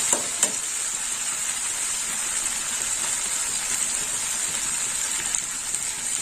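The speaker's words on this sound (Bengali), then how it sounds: "একটু মশলাটা ভাজা হবে" Ground spices with turmeric powder sizzle and fry steadily in hot oil in a pan during home Bengali cooking, a continuous close hiss with a few faint stirring clicks.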